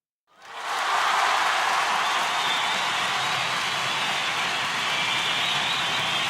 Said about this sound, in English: All right, the crowd goes wild for my promo, and the crowd goes wild for my pick.